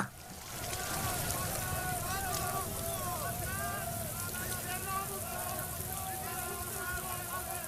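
Steady rain falls continuously at moderate volume, a soft even hiss over a low rumble, while voices speak over it.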